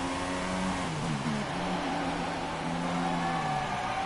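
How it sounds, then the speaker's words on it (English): A Formula racing car engine in a Malaysian Grand Prix video game race drones and shifts pitch continuously, with gliding tones rising and falling over a dense, steady roar and no talking. "Weird engine noises"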